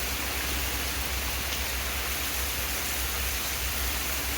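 Heavy rain pours during a severe thunderstorm in Pittsburg, Kansas, a dense, loud, unbroken hiss with a low rumbling undertone and no voices.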